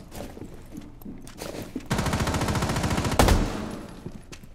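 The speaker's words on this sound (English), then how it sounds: "Wait, where am I getting shot from?" Automatic gunfire in a Rainbow Six Siege match on the Kafe map, loud rapid bursts of shots with a sharp blast near the end, no talk.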